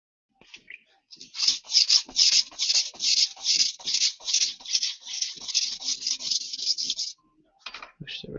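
A blade drawn over a coarse sharpening stone in a steady run of about twenty short, rasping strokes, close and fairly loud, with a brief pause and a couple more strokes at the end.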